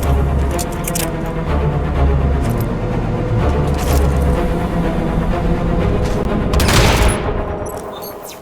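Gunfire in the video game Hitman: Absolution, a loud burst of rapid shots and sharp booms crowding together over several seconds, close and heavy, with no talk.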